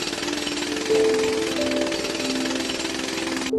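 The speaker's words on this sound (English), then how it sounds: "yeah, hammering will do it" Rapid, continuous metallic pounding on an electric skateboard battery pack, like a powered hammer, loud and close, with a few tonal squeals riding over it before it cuts off.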